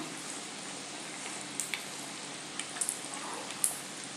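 Poha and potato snacks fry in hot oil in a pan, giving a steady soft sizzle with scattered small crackles and pops, moderately quiet and without voices.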